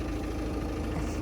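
A Ford Kuga engine idles with a steady, even mid-low hum, close by and unbroken for the brief moment.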